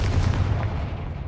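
Rumbling low-frequency blast from the Confringo explosion spell in the Hogwarts Legacy video game, a dense booming burst that fills the moment with no voices.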